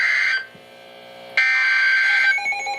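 NOAA weather radio warning alert tone: a loud, steady high-pitched electronic tone that breaks off briefly, then resumes just as strongly, sounding alone and close during a tornado warning broadcast.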